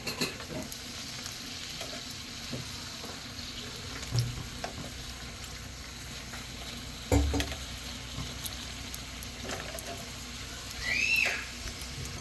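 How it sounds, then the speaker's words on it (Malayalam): Crispy samosas frying in hot oil until golden brown on both sides, a faint, steady sizzle with occasional soft clinks and a brief scrape near the end. "രണ്ട് സൈഡും ഗോൾഡൻ ബ്രൗൺ ആവണ വരെ ഒന്ന് ഫ്രൈ ചെയ്തെടുക്കുക."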